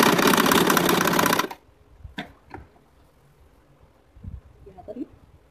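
A sewing machine stitches fabric over a bag zipper, running loud and fast in a steady whir for about a second and a half before stopping abruptly. Quiet handling noises and speech follow.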